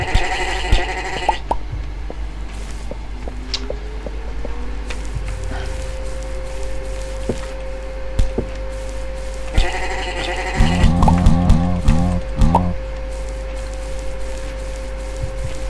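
Black sheep bleating in MineClone2, a Minecraft clone video game, several wavering bleats at the start and again near the end, over a steady humming tone and intermittent game noises.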